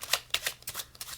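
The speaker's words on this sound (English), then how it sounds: "let's give it a shuffle and lose it right into the deck" A deck of playing cards is shuffled by hand in a card trick, giving a few quick, crisp riffling bursts, close and fairly quiet, with no talking.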